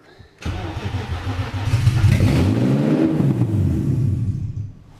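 A BMW E36 with a swapped engine cranks and fires, then revs up and settles back in a loud, close rise-and-fall of engine roar before quieting at the end.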